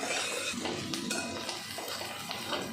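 Onions and jute greens fry in a pan, with a soft sizzle under repeated stirring scrapes and light metallic clinks of a spoon against the pan.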